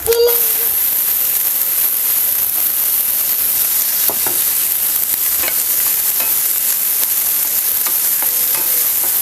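Chopped onion dropped into hot oil with cumin seeds, a steady broad sizzle filling the whole stretch, with faint stirring scrapes now and then and a brief voice near the start.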